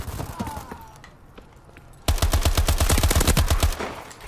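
Dual pistols in Call of Duty Advanced Warfare fire in a dense, rapid burst of loud close shots that follows a quieter stretch of scattered clicks and faint game noise.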